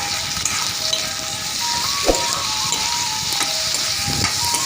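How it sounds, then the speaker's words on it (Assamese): Pork fries in a pan with ginger and garlic, a steady close sizzle with occasional crackles and a few stirring knocks, and no voices. "এইখিনি ইয়াৰ লগত মই ভালদৰে অকণমান সময় ভাজি ল'ম।"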